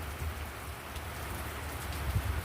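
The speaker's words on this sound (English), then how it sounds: "I'm not gonna take it out in this pouring rain" Heavy rain pours steadily under a canopy during a cross-Canada motorcycle-style tour stop, a dense continuous hiss of drops drumming on the surface nearby, with no talk.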